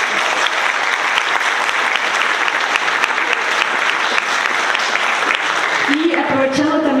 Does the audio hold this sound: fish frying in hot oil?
no